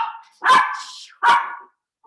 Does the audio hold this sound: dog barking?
yes